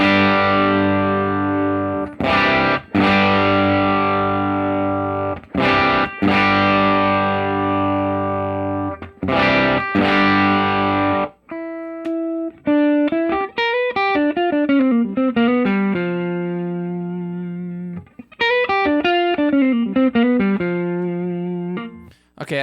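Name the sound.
clean electric guitar tone through amp modeler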